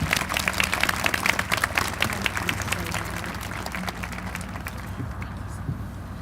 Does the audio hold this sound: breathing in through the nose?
no